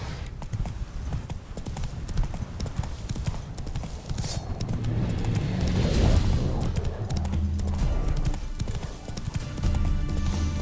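Roach's hooves clip-clop loudly and continuously in Witcher 3, a close, busy trot that picks up into a heavier gallop midway, with faint game ambience underneath.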